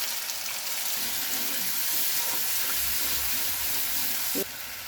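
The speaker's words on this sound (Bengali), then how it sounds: "এবার আমি অল্প একটু জল দিয়ে দেবো এর মধ্যে।" Water poured into sizzling masala for Bengali doi chingri, a loud hissing sizzle that runs steadily throughout and then drops abruptly near the end, with light stirring sounds underneath.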